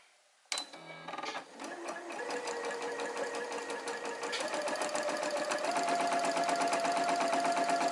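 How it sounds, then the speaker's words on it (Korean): Sewing machine stitching thin chiffon on automatic thread tension, starting up after a faint click and running in a steady, fast, close mechanical whir throughout. "일단 오토 상황에서 재봉을 해보겠습니다"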